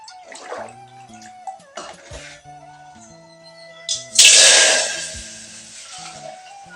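Water poured into a pan while cooking a Tamil sukku kuzhambu (dry ginger curry), a short splashing gush that rises loudly and then tapers, with quieter kitchen clatter and faint tonal hum before and after.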